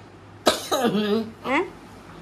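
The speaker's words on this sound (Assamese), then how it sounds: "কাহ হয় অৱস্থা নাই, কাহ হৈছে" A sick woman gives a sharp, close cough followed by a couple of harsh, raspy bursts, loud and alone in a quiet room.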